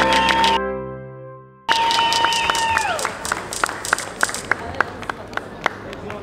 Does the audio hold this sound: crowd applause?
yes